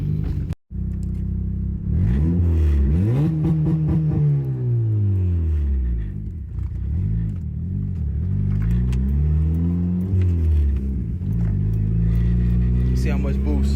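A turbocharged Honda Accord with a K24Z3 engine accelerates hard, its revs sweeping up and down through several gear changes with a deep, building engine drone, heard from inside the car while people talk.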